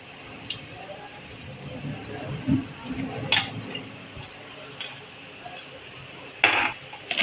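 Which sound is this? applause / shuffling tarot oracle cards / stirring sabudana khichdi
stirring sabudana khichdi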